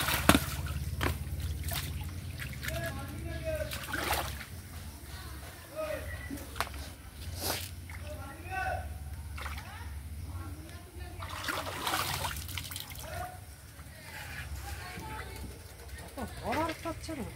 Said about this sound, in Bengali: অনেকদিন পরে ঘাটে মাছ ধুতে হয়েছি।